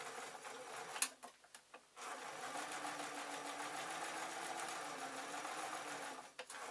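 A sewing machine stitches fabric around a curve on a simple owl sewing project, running in a steady close whir after a few brief starts and stops.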